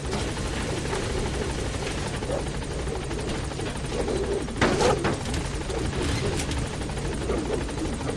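In a video game, the B-Quad support helicopter arrives at a landing zone, its rotor chop thudding loudly and continuously, with a brief burst of sharper noise midway.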